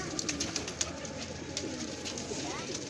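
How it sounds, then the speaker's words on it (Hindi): Pigeons kept in a village loft coo in low, soft calls, with a person talking over them and occasional light clicks or taps nearby. "ज़बरदस्त कबूतर हैं"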